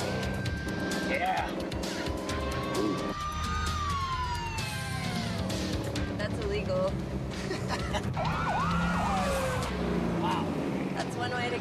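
A police siren approaches behind a Classic Recreations Eleanor supercar in an alleyway, sweeping wails rising over a loud rumbling engine and road noise, with people talking throughout.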